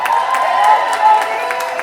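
Live-show crowd cheering and applauding, a dense wash of clapping and whoops, loud and close.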